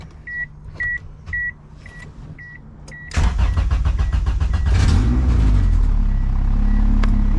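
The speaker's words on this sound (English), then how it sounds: "Hopefully this car cranks over." A built Honda EF sedan with a B20VTEC engine, not run in two years, cranks with door chimes beeping beforehand, then fires up and settles into a loud, steady run close by.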